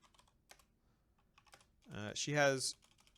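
Light, scattered keyboard typing while entering a chat message, faint and close, soon joined and covered by a person talking.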